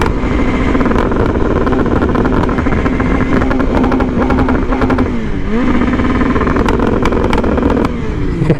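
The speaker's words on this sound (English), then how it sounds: "I need to figure out how to make it to where I can rev like this all the time." A BMW S1K motorcycle engine revs hard and steady near the soft 8K red line, a loud continuous high-pitched roar with brief dips in pitch around the midpoint and near the end, with no talking.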